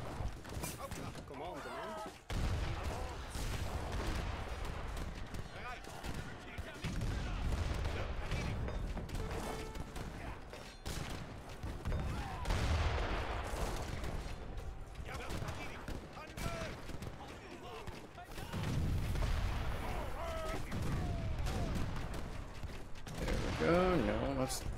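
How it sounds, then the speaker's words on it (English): Mortar and cannon fire in an Age of Empires III: Definitive Edition treaty battle: a dense battle din of booms and crackling shots, with excited commentary talk running over it. "He's walking in with his mortars"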